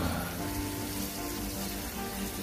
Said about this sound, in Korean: 여기다 이제 소주를 붓습니다